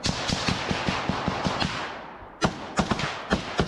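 Rapid gunfire in combat footage from the war in Ukraine, with sharp shots cracking in a fast irregular rhythm, a brief lull, then more loud close bursts.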